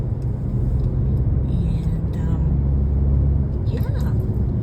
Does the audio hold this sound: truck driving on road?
yes